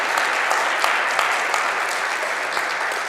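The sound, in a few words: church congregation applause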